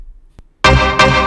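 A tiny tick, then a loud, dense synth chord stab bursts in and sustains, retriggered once a moment later, punchy and full.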